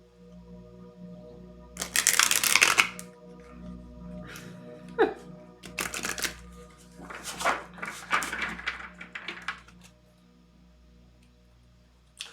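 Tarot cards are shuffled in a few crisp riffling bursts separated by pauses, close and moderately loud over a faint steady hum.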